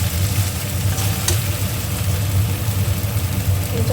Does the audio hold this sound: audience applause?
no